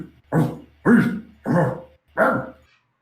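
A person imitates dog barking and growling in four evenly spaced gruff, throaty bark-like bursts, close and loud, with no clearly separate real dog response.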